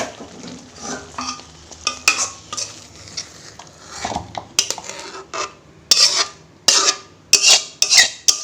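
Cooked taro and shrimp curry being scraped and poured out of a pot, with a run of sharp metallic clinks and scrapes of a utensil against the pot that grow louder and more frequent toward the end, no voices.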